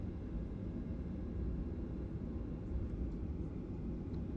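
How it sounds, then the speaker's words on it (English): A passenger airliner taking off from Brisbane, heard from inside the cabin as a loud, steady low roar of engines and rumble that holds evenly throughout, with no talking. "No, we are the next ones for takeoff."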